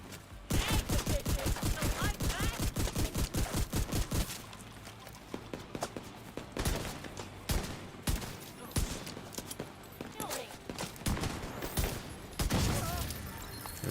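Pistol and shotgun shots alternate in The Division 2, a loud, rapid train of sharp cracks, then sparser shots with clattering impacts against the game's background sound.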